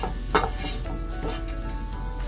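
Butter sizzling in a hot pan, a dense, even crackle held close and steady, with one brief stirring clatter near the start and no talking.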